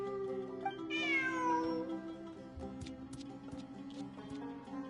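A cat meows in the Genshin Impact video game, one clear rising-and-falling meow near the start over steady background music, followed by light ticking sounds.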